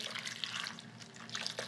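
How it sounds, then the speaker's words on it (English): Water poured from a tap or jug over mushrooms and sweet marsala in a cooking pot, a steady splashing, trickling flow heard up close and alone. "and we're going to cover these with water."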